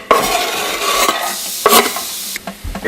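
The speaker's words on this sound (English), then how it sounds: "add that into your pan of already heated oil" Food hits a pan of already heated oil and sizzles loudly with stirring clatter, a dense frying hiss with a few sharper scrapes, no talk.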